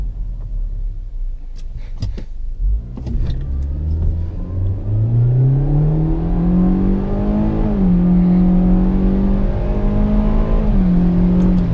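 A 2021 Hyundai Elantra SEL in sport mode pulls away from a standstill, engine tone climbing steadily through a gear change and a second rise, loud and close inside the cabin with no talking.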